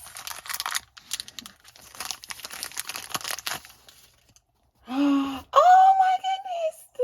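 Packaging for a Real Littles miniature toy box being opened: bursts of crinkling and tearing across the first few seconds, a short pause, then a brief vocal exclamation over lighter rustling.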